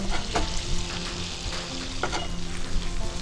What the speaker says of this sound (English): First I will put garlic inside to fry, and then I will put little ginger in it